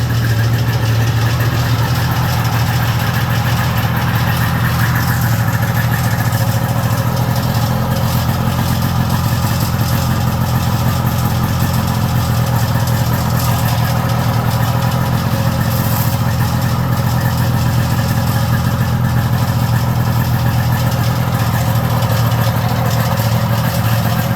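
A 1984 Polaris SS snowmobile engine runs steadily for the whole stretch, a loud, close, continuous two-stroke drone and rattle with no pauses or talking.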